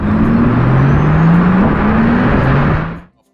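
A Tesla Model S Plaid electric car accelerating hard, a loud, steady whir with rising tones that holds close for about three seconds, then cuts off abruptly.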